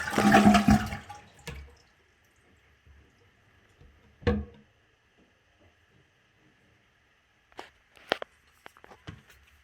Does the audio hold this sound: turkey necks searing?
no